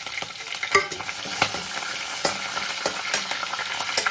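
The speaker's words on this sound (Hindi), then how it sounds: "और अब डालते हैं इसमें सौंफ।" Fennel seeds hit hot oil with garlic already frying, giving a close, even hiss of sizzling with occasional clicks and taps of stirring; no voices.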